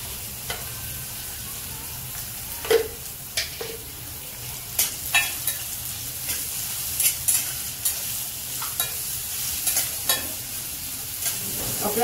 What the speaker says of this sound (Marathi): त्यानंतर कढीपत्ता, कांदा पण छान आता परतून घेऊया